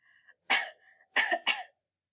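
A few short coughs, one then a pair in quick succession, close and fairly loud, with quiet breathy sounds between.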